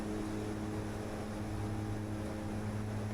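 Airplane engine at full throttle in Microsoft Flight Simulator 2020, a steady even drone with a sustained hum, continuous and uniform across the whole stretch with no talking.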